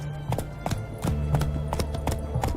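The hooves of Roach, a horse in The Witcher 3 video game, clip-clop in a steady walking rhythm of about eight distinct hoofbeats over a low, sustained music bed.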